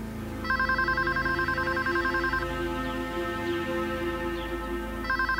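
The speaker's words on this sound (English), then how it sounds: "Gordon Phillips continued to hound Jeannie Tovery by phone." A telephone rings with a bright trilling electronic bell in two bursts, the first long and the second starting near the end. A low hum and quiet background noise run beneath, with no talking.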